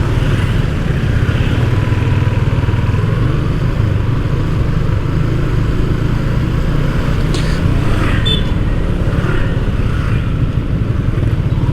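A Yamaha MX King 150 motorcycle engine drones steadily while riding through congested traffic in Indonesia, a continuous close, loud rumble with faint horn-like tones from surrounding vehicles.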